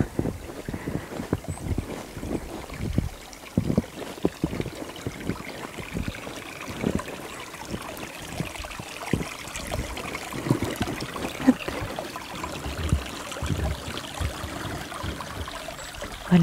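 A small mountain stream runs under deep snow, giving a soft, continuous trickle and burble with light wind noise and scattered faint knocks. It stays fairly quiet and steady throughout.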